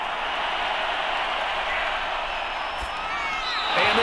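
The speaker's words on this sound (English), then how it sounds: "We're going to give out a little applause on that play" A steady wash of crowd applause and cheering fills a stadium after an incomplete pass in a Madden NFL 22 game between the New York Giants and LA Chargers. It holds even and loud throughout and swells slightly near the end.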